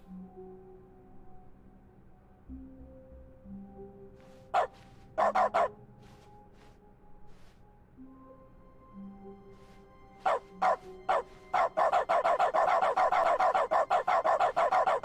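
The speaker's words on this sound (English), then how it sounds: "Now whenever I click it barks instead of the clicking noise." Dog barks replace the mouse clicks in The Stanley Parable Ultra Deluxe, arriving as sharp yips in short clusters over a soft musical background, then a rapid run of repeated barks near the end.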